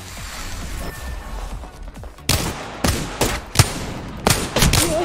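Video game gunfire cracks out in sharp bursts, several loud shots and short volleys in the second half over a low background hum, with no talk.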